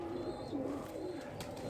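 A pigeon coos softly in a low, rolling murmur, with faint chirps from other birds nearby and no voices.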